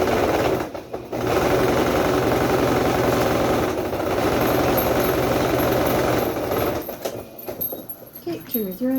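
A sewing machine runs top stitching along fabric, humming steadily and loudly with brief stops near the start and middle and more broken, stop-start running at the end.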